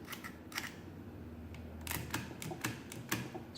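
Keys pressed on a Sundstrand Speed Adder adding machine under repair, a scattered series of sharp mechanical clacks and snaps at uneven intervals, close and fairly crisp over a low background hum.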